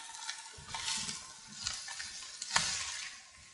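Cabbage fries in a pan while it is slowly stirred, producing a broad steady sizzle with soft scraping strokes and a few louder stirring pulses, close and alone.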